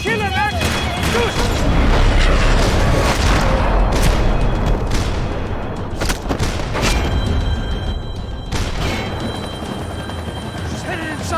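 Gunfire and explosive booms from the Max Payne 3 video game, with a helicopter nearby, form a dense, loud barrage of cracks and thumps. Voices are mixed in the game audio throughout.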